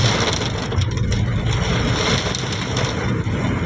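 Heavy rain pours down in Tiruppur, a dense, loud, unbroken hiss of falling water that stays constant throughout with no voices.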